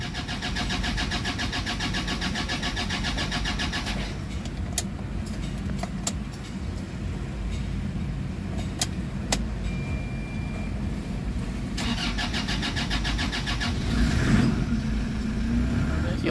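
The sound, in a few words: Toyota Fortuner engine cranking during start attempt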